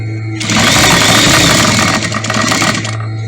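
An industrial sewing machine stitches a seam, with a loud, close, rapid mechanical whir that starts abruptly, runs for about two and a half seconds and stops.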